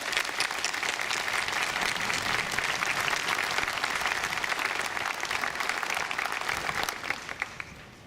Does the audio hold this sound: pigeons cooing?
no